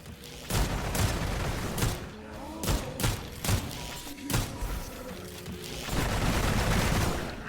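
Pistol shots ring out in a vampire-themed video game, several sharp booming reports spaced irregularly over a dense, loud game soundscape with low rumbling thuds.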